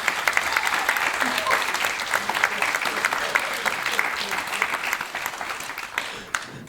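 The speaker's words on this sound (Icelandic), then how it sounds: "gefa henni gott klapp" Audience applause at a live stage hypnosis show in Iceland: a dense, steady wash of clapping from a crowd lasts the whole stretch, easing slightly toward the end.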